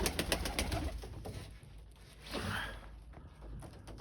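Low, soft pigeon coos, including a very young pigeon, rising and falling close by in Boryspil during -17° frost, with faint rustling and shuffling in the background.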